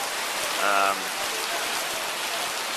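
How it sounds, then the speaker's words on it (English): Heavy tropical rain pours down steadily in Melaka, Malaysia, a loud, even, hissing roar throughout with a brief faint voice-like tone early on. "it's been pouring down for a while"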